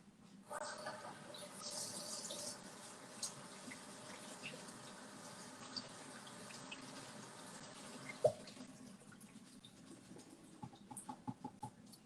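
Rice being rinsed in a fine conical strainer under running tap water gives a soft, steady hiss for about eight seconds. The flow then stops, leaving a few faint drips and small clinks.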